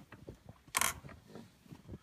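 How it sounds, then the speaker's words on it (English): A chicken coop door on a Vermont farm is opened with a brief mechanical click and rattle, a short sharp latch noise amid faint creaks and shuffling. "Open the door up for them."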